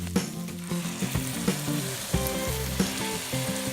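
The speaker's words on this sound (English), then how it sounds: "You want to keep stirring until most of the wine has evaporated and soaked into the rice." Arborio rice is stirred with white wine in a hot pot for risotto, producing a steady sizzle and frying hiss with soft stirring scrapes over a constant background tone, close and even.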